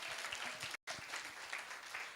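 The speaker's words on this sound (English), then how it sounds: "Claps." Steady applause from a room of teachers at a school faculty development session, dense and continuous clapping that breaks off for an instant and then carries on.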